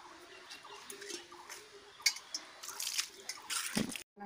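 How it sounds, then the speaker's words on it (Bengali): Water poured from a vessel at the base of a tulsi plant: soft, intermittent splashing and trickling that builds toward the end, faint against quiet outdoor background before cutting off abruptly. "তুলসী তলায় জল দেব।"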